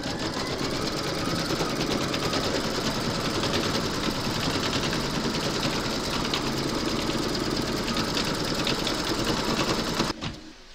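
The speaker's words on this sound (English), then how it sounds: "Pop your hoop into your machine and stitch round number three to secure it." An embroidery machine stitching through fabric held in a hoop, a steady fast mechanical chatter with a constant buzzing hum, running continuously and close up before stopping abruptly near the end.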